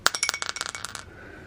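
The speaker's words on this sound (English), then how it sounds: "So I'm rolling this dice for that." A die rolls and clatters across a hard surface in a rapid series of bright clicks that slow and settle within about a second, close and alone.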